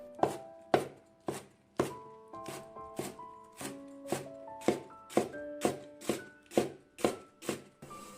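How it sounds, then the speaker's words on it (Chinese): A knife chops vegetables into thin shreds on a cutting board, steady rhythmic thuds repeating about twice per second, close and crisp with no voices. "直接放在案板上，"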